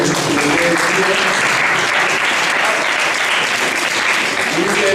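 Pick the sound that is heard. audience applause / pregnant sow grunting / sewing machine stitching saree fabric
audience applause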